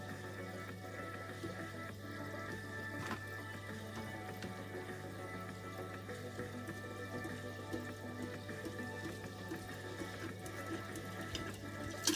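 An aquarium gravel siphon hose slurps up water and gravel in a continuous gurgling wash, with a steady low hum underneath and faint rattles of stones, close and without voices.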